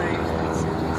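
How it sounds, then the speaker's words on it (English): An airplane passes low overhead on a spring morning in rural Nebraska, a broad, loud roar that fills the short stretch, with a voice talking over it. "And an airplane about to crash on our head."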